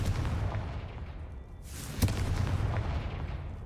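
The Confringo explosive spell fires in Hogwarts Legacy, a sharp blast rising out of a dense, continuous rumble of game effects, loud and close.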